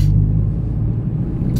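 A deep, steady stock exhaust rumble from an Audi TT mk2 engine idling close by, low and continuous throughout with no talking.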